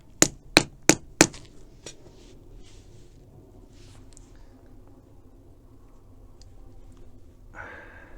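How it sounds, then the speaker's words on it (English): A hammer taps a bearing into a bicycle freehub body with four sharp, evenly spaced metallic strikes up close, followed by a faint fifth tap and quiet handling noise. "Let's give it another couple of taps just to make sure it's nicely positioned."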